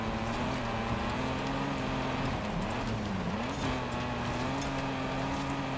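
A racing car engine in the video game Forza Horizon 5 drones steadily at high revs, with a brief dip and rise in pitch midway, continuous and fairly loud with no talking.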